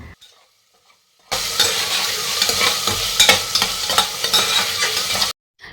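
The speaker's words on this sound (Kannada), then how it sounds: "ಇದಕ್ಕೆ ನಾನು ಸ್ವಲ್ಪ ಜಿಂಜರ್ ಗಾರ್ಲಿಕ್ ಪೇಸ್ಟ್ ಕೂಡ ಹಾಕಿ ಫ್ರೈ ಮಾಡಿಕೊಂಡೆ" Onion, tomato and ginger garlic paste fry in a pressure cooker: after a near-silent start, a loud close sizzle begins with repeated scraping stirs and clinks, then cuts off abruptly.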